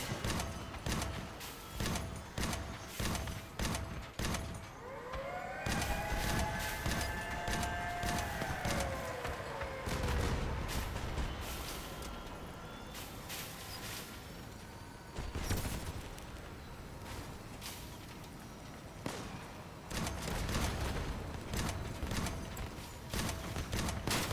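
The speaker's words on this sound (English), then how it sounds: "Stop shooting me, please!" Vehicle weapons fire in the combat game Crossout, with loud rapid bursts of shots that come and go, crashing impacts and a rising, siren-like whine in the middle, all alone without talk.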